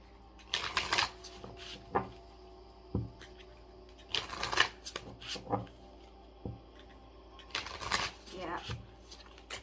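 Tarot cards being shuffled by hand: close, crisp bursts of riffling and slapping in irregular clusters, separated by short pauses and single taps against a quiet background.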